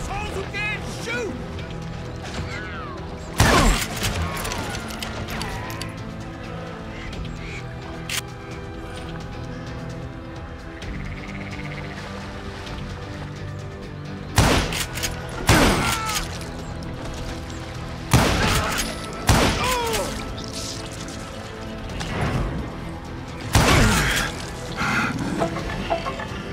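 Gunfire from Call of Juarez: Gunslinger, a Western-era shooter game, with several loud sharp shots and clusters of reports spread across a scene, while someone narrates over steady background music.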